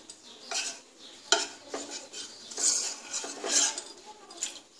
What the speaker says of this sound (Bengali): পাতলা ব্যাটার বানিয়ে নেব